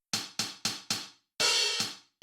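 Four punchy drum hits in even rhythm, then a longer sustained crash-like hit, with a gritty tone from a tape saturation effect and no voices.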